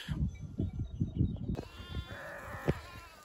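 Lambs and sheep bleating in a flock on a windy mountain pasture in the Nurhak mountains, repeated close bleats over a steady hiss of wind, later joined by a higher continuous tone.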